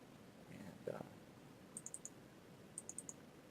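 Computer mouse double-clicked twice on a settings bar, two pairs of quick crisp clicks close to the microphone over faint room noise with a brief soft voice sound early on.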